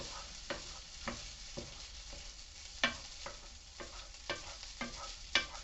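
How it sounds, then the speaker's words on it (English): A spoon scrapes and pushes rice around a pan with fried onions for Asian fried rice, giving about a dozen irregular scraping strokes over a soft, steady sizzle. "I'm just going to stir it around with the onions first"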